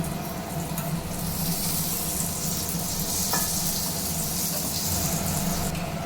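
Chicken paratha fries in a small amount of oil, giving a steady, close sizzle with a broad hiss that holds even and loud for the whole stretch, with no talking over it.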